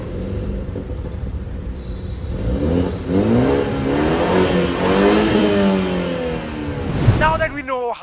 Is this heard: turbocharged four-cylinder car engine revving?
yes